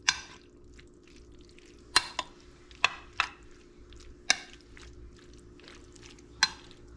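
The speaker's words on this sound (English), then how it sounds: "Let me give this a mix and see how it looks." A spoon stirs pulled pork shepherd's pie filling in a dish, making sharp, scattered clacks and scrapes every second or so against a quiet background.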